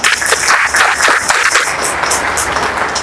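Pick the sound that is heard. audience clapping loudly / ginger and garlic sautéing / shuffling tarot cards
audience clapping loudly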